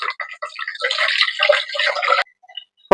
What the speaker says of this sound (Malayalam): നമ്മൾ തണുപ്പിച്ചാറിയ വെള്ളമുണ്ട് കുറച്ച് അത് ഇതിനകത്തേക്ക് ഒഴിക്കുന്നു